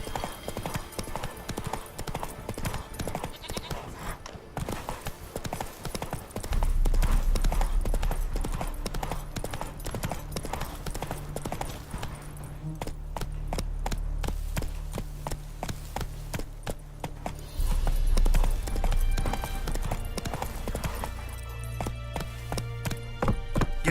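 Horse hooves clip-clop at a steady galloping rhythm in The Witcher 3: Wild Hunt, the game horse running continuously and close with a low rumbling bed beneath, with brief snorting bursts and faint voice-like calls.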